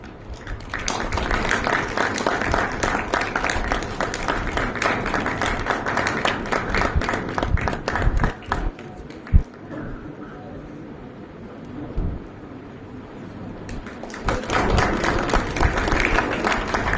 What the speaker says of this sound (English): Request all to give a round of applause.